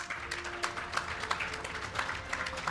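Audience clapping at a talent summit panel discussion, a moderate steady patter of many hands, fairly close, without voices over it.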